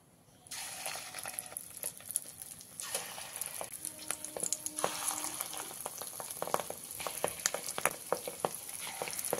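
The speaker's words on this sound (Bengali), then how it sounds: "এবার গ্যাসের ফ্লেমটাকে মিডিয়ামে দিয়ে কিছু সময় আমি ডিমের বড়াগুলোকে ভেজে নেব।" Fish roe fritters dropped into hot mustard oil in a karahi, the sizzle surging in after a quiet start and crackling steadily with sharp pops, close and fairly loud, no talking.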